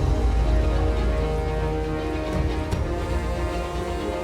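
Steady rain falls during the monsoon season, a dense, continuous hiss of drops that stays even and fairly close throughout, with no voices.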